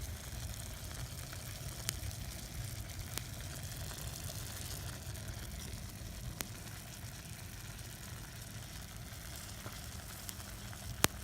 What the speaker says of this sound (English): There is my meat cooking.